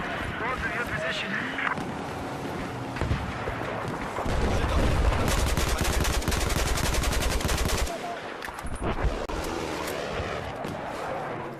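Gunfire in the shooter game Battlefield 4, with dense bursts of rapid automatic shots over a constant roar of wind and ambient battle noise, loud and close, joined by game voices.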